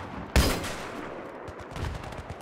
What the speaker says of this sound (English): They're just over there shooting at me.